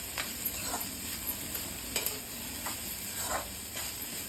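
Cabbage is stir-fried over a high flame for Schezwan rice, giving a continuous loud sizzle. Sharp spatula scrapes against the pan come every second or so, and no one speaks.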